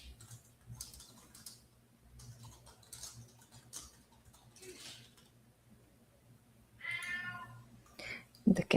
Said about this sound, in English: The cat is meowing from the other door